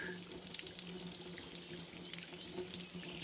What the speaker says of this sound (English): And there we have warm water.